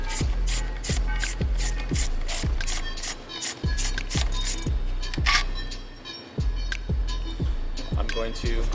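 Hand ratchet clicks in quick repeated bursts while removing bolts from an Audi Q7 3.0T TFSI engine, loud and close, with short pauses between runs of clicks and someone talking.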